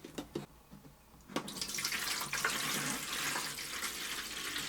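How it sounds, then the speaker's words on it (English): Purified water pours into the top of an Elechomes humidifier in a steady, close splashing stream, after a few soft knocks and clicks at the start. "when I pour the water in the top"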